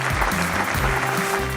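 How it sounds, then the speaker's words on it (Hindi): Applause from the audience at an Oxford University convocation ceremony, a steady, dense wash of clapping that carries on evenly for the whole moment without any voices. "तालियां बज रही हैं ऑक्सफोर्ड यूनिवर्सिटी के दीक्षांत समारोह में"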